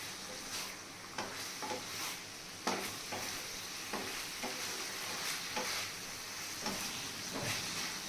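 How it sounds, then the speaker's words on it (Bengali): Fried chicken pakoras being stirred into sauce in a pan for dry chilli chicken, a constant soft sizzle under regular scraping spoon strokes, close and without talk. "এটাকে তোমরা ভালো করে মিক্স করে নাও এই সসটার সাথে এই পকোড়াগুলো"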